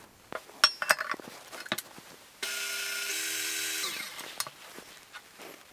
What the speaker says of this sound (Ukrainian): Спочатку збиваємо вершки з цукровою пудрою до м'яких піків.